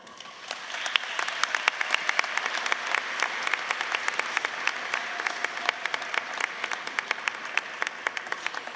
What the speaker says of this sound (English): Seniors, please take a moment to applaud these people.